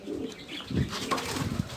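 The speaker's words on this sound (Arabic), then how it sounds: "دخل الحمام" Pigeons returning to their loft after a release coo softly and flap their wings in short bursts, a close but fairly quiet mix of throaty calls and feather flutters.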